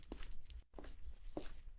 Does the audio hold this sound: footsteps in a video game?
yes